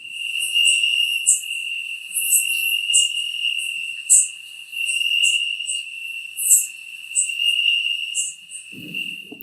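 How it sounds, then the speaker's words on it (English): A cicada sings in a loud, continuous, high-pitched drone overlaid with pulsing chirped bursts that rise and fall in repeated phrases, close by, ending with a faint low thump. "the song of most cicadas are usually heard during the day or at dusk"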